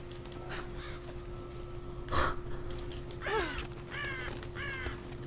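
Bird calls in the video game Rise of the Tomb Raider, a few harsh crow-like caws: one sharp call, then a cluster of rasping caws in quick succession over a faint steady ambient hum.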